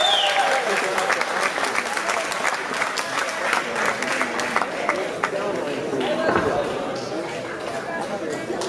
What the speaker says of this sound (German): nochmal hier Applaus für diesen wirklich tollen Kampf